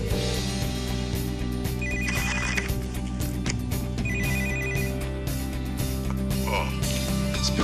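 A telephone rings over a speakerphone line during a tense office call, with steady repeating electronic ring bursts over a dense background of music and room sound; no speech.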